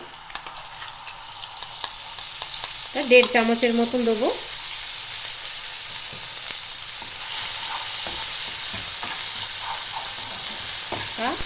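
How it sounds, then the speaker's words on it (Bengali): Ginger and green banana paste fries and gets stirred in a pan, a continuous close sizzle with scraping stirs, and someone briefly speaks over it early on. "যতক্ষণ না আদা গন্ধটা যায় ততক্ষণ আমি এটা কষিয়ে নেব।"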